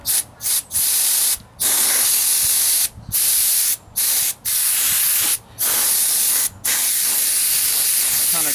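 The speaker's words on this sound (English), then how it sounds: "I also have some compressed air." Can of compressed air blasting dust off a 1998 Ford Ranger wheel arch repair, loud close hissing bursts of varied length, about eight in a row, separated by brief silent gaps.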